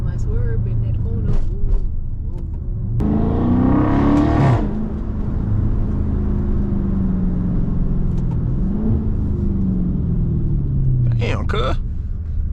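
Dodge Scat Pack widebody with the mid muffler deleted, heard from inside the cabin: a loud, steady engine and exhaust rumble runs throughout, with a harsher rising pull around the middle and people talking over it.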